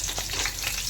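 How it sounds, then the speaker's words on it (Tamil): Green chillies fry in hot oil in a pan, a steady dense sizzle filling the whole moment with no voices. "முதல்ல பச்சை மிளகா சேர்த்துருவோம்."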